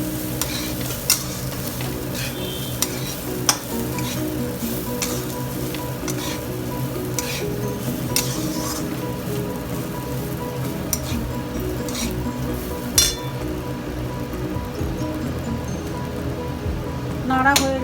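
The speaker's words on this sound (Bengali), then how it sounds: "এটা দিয়েও কিছুক্ষণ নেড়ে নেবেন" Pulao rice stirred in a pan with a little turmeric powder, with continuous crackling sizzle and repeated scraping strokes of a spoon against the pan, close and steady throughout.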